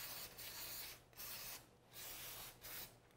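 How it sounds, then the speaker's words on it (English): Contact cleaner sprays in four short bursts onto the carburetor of a Kawasaki KLX110 dirt bike, each a breathy hiss about half a second long, fairly close and with no talk. "I'm going to use a little contact cleaner just in case really quick."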